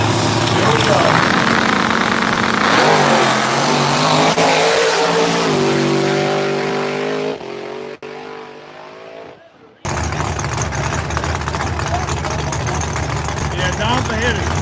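A big-block ProCharger car and a 5.3 LS turbo line up for a no-prep small-tire drag race, loud engines roaring and revving under an announcer's voice, the sound dropping briefly before the roar cuts back in.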